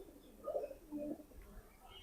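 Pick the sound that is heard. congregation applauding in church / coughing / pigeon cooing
pigeon cooing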